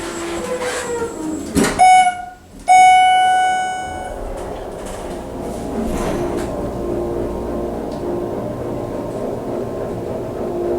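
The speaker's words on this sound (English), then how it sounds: "let's listen to the motor." A hydraulic elevator motor runs with a steady low mechanical hum throughout, preceded by a brief two-tone electronic sound near the start; no voices.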